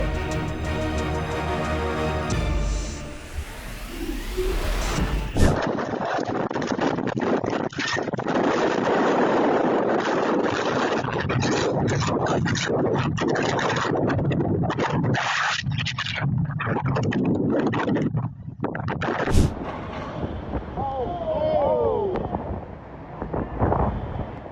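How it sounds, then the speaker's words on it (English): Violent floodwaters rush through a city street in a loud, churning roar, thick with wind buffeting and scraping debris, broken by abrupt cuts between scenes. "The violent floodwaters swept away all obstacles in their path."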